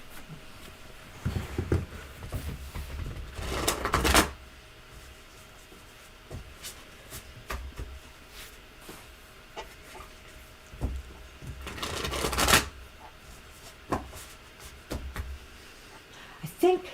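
Playing cards being shuffled, two loud bursts of riffling and rustling several seconds apart, close up, with quieter handling taps and clicks in between.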